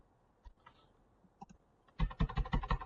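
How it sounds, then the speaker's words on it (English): Scattered single key clicks, then a quick burst of rapid, close typing on a computer keyboard into an Excel VBA user form. "I'm typing letters, nothing happens. Now I'm typing numbers"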